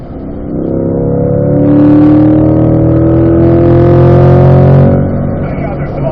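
A car on the Spring Mountain race track swells in and accelerates past, a loud rising engine drone with strong harmonics that peaks and then fades, alone and close.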